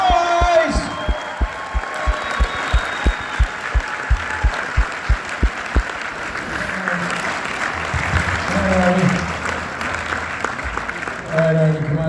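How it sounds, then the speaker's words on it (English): Rhythmic crowd clapping in time, then it breaks into loose applause with scattered whoops and cheers from an audience. "Arnie, I think you might have got almost a better applause than me"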